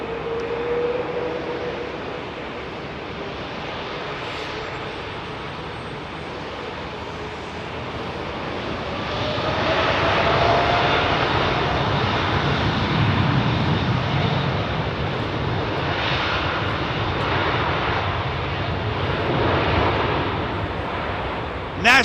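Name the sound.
Boeing 787 Dreamliner jet departing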